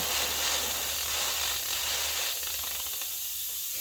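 Steam venting from an Instant Pot cooking white beans and ham, a continuous close hiss that fades and thins toward the end.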